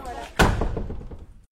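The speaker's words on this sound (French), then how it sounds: "on va emprunter la porte qui nous mène vers les sanitaires et le premier étage" A door in a mountain refuge bangs shut with one loud, close thud, its rumble and rattle fading over the next second while faint voices carry on underneath.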